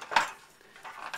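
Small cutlery clinking against a cutlery storage container, one bright metallic clink followed by a softer rattle, close and brief, no voices.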